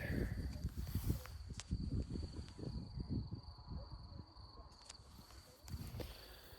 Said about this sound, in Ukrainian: Тиша, звуки цвіркунів і краєвид.